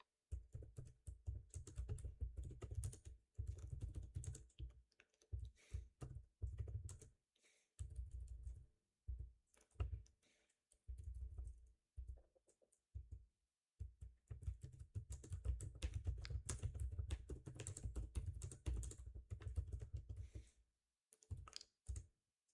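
Steady typing on a computer keyboard, close and continuous in quick bursts with brief pauses, entering an Azure region name while setting up a storage account.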